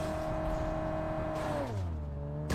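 A car engine in a video game whines at a steady pitch, then drops and winds down as the vehicle slows, a smooth synthetic tone heard up close with no talk.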